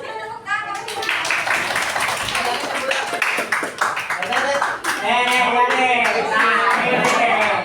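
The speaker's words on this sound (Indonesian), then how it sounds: "Tepuk tangan." Classroom of students clapping hands during a lesson, brisk overlapping claps running throughout while children's voices chatter and call out over them, fairly loud and close.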